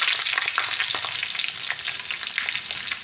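Onion and capsicum sizzle together in a hot pan over a lowered gas flame, a dense steady frying hiss with light stirring scrapes, close and even throughout, no voices.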